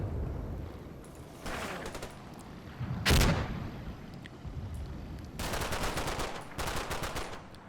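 Gunfire bursts in the Normandy-set wargame Combat Mission: Battle for Normandy, with rapid automatic volleys and one loud sharp blast, heard in separate clusters over a steady battlefield rumble.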